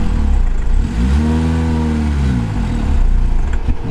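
An off-road car in low gear revs up as it pulls away, its engine note climbing and then settling. The rumble is loud, close and steady, with a few faint clanks near the end.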